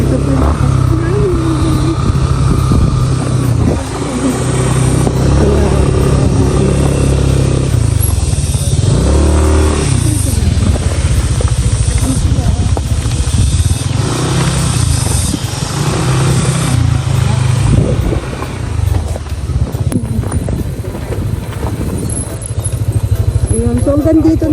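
A motorcycle rides along a narrow dirt trail in Dingalan, Aurora, its engine droning steadily and close throughout, with clattering over rough ground and occasional revving, under speech.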